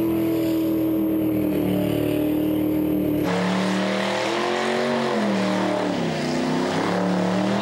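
Powercruise burnout competition: V8 cars roar at sustained high revs, a harsh engine scream that drops and swells as tyres spin, loud and close throughout, with a sharp shift in tone partway through.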